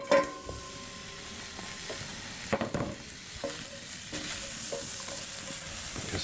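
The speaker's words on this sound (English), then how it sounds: "One way to find out would be to drop some water in there and see if it sizzles." Butter sizzles in a hot pan over a campfire outdoors, a steady quiet frying hiss broken by a few clinks and scrapes from stirring, with no voices.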